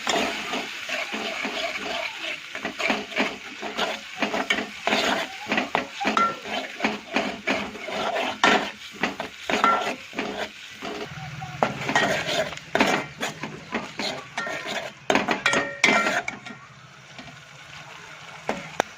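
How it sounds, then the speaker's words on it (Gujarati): Garlic chutney being stirred and mixed with oil in a pan: repeated close metal scraping and clinking of a spoon against the pan, irregular and busy throughout, with a faint sizzle underneath. "આ લસણની ચટણીમાં તેલ થોડું વધારે રાખવાનું આપણે અને આવી રીતે બધું મિક્સ કરી દઈએ"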